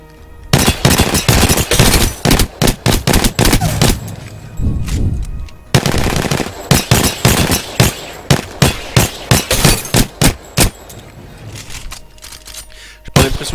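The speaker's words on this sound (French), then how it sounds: "c'est relativement assez correct pour un pistolet mitraillette" Bursts of automatic submachine gun fire from the video game Apex Legends, loud and close, with rapid strings of shots broken by short pauses and a few single shots.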